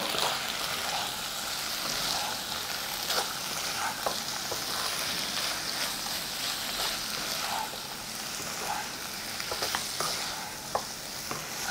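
Pumpkin pieces fry with ginger-garlic paste, green chilli powder and cumin powder in a pan, giving a continuous crackling sizzle with occasional stirring scrapes, close and moderately loud, with no talking.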